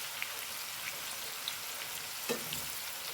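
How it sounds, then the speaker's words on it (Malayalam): Onions deep-frying in oil for chicken biryani, a faint, steady, rain-like crackle and sizzle with a few tiny pops and one soft knock of a utensil. "ഉള്ളി വറുത്തെടുക്കുകയാണേ."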